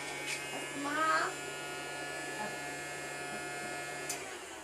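A small handheld vacuum cleaner runs with a steady, high buzzing whine throughout, and a voice rises briefly over it near the start.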